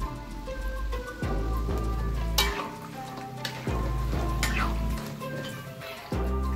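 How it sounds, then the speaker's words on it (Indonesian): Steady crackling sizzle of pempek fish cakes frying in hot oil, close and continuous, with a few louder spatters and clinks as pieces are added or moved. "Goreng di minyak yang panas sampai permukaannya kering."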